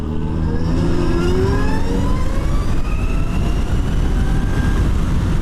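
A 2017 Zero SR electric motorcycle accelerating hard off the line produces a rising electric-motor whine that climbs steadily in pitch over loud, constant wind and road rumble, heard up close.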